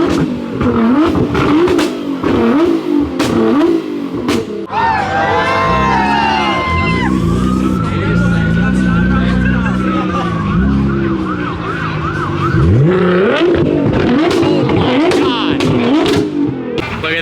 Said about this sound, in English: The entire crowd is running, including myself, to capture this Pagani leaving.